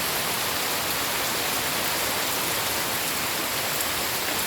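Steady rain falls in a continuous, even hiss with no pauses, spread across the whole stretch and close to the listener, with no voices.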